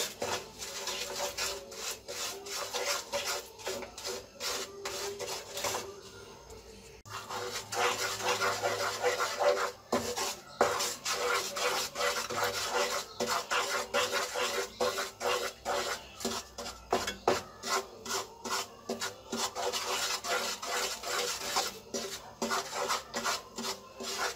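Jaggery being stirred in a pan while it melts and darkens for puffed rice ladoos, giving a steady rhythmic scraping and rasping that carries on for the whole stretch, close and fairly loud, with a short pause partway through.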